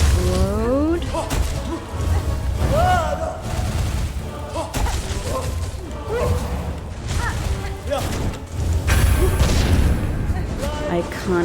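Heavy booms and crashing blasts of explosions in Hollow Knight: Silksong, loud and sustained across the stretch with repeated impacts, mixed with a man's speech.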